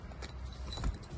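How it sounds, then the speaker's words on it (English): A zipper pulled open on a large case holding a 400mm F-15 reflector telescope, a short, close ripping scrape that rises toward the end. "let's just, curious, and unzip this sucker"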